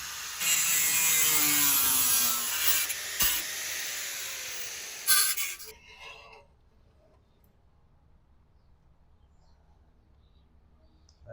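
Metal lakepipe being cut off where it hits the quarter panel of a 1960 T-bird, with a loud, harsh, steady grinding-cutting whine for about five seconds, then near-quiet.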